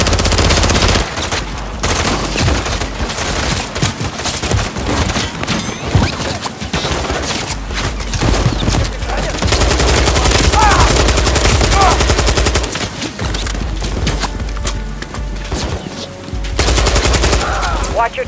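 Sustained automatic gunfire from a Call of Duty firefight rattles on loud and dense, with bursts of machine-gun fire and scattered shots overlapping almost continuously, backed by game score and effects.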